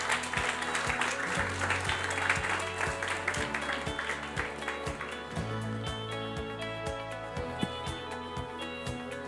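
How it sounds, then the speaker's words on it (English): Audience applause at a book launch during a governance ideas festival, fairly quiet scattered clapping mixed with upbeat music playing over a sound system, the clapping thinning out over several seconds. "Round of applause, please."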